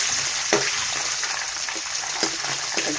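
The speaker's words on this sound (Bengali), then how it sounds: "এবার ডিমটা ভাজাভাজি করছি।" An egg fries in a pan with a continuous bright sizzle close by, broken by several soft scraping and stirring knocks.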